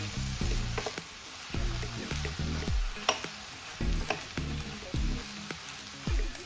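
Noodles for a prawn stir fry are tossed and stirred in a hot pan, sizzling in a rhythm of repeated scraping bursts and clatters close by, with no talking.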